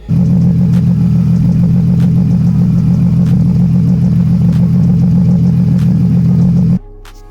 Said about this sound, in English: we'll run the engine again, see if it stops leaking